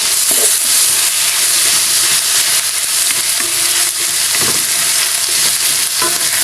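Tomatoes sautéing in a pan with garlic, onion and ginger for a sardine dish, a steady close sizzle and hiss throughout with occasional scraping stirs, no voices.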